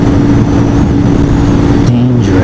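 Steady road and engine roar of a car overtaking a motorcycle running at about 50 in a 45 zone, heard continuously and loudly through helmet-mounted wind noise, with a rising tone near the end as the car passes.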